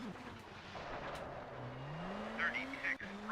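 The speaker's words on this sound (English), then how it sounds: "I could even hear the car dragging through the mud" Rally car in Colin McRae Rally 2.0 churning through mud on a dark stage, a steady low engine drone rising in pitch with gritty, scraping surface noise over it, under a quiet voice.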